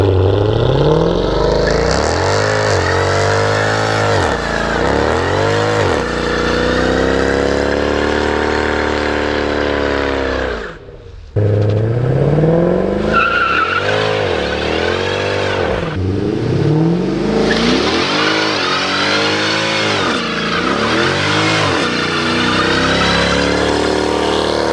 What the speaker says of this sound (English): The Mercedes C63 AMG 507 edition.